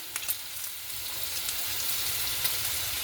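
Bacon sizzles steadily in a pan, a continuous crackling hiss with a few louder pops early on, close and alone with no talking.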